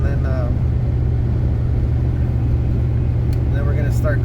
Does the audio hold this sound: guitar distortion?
no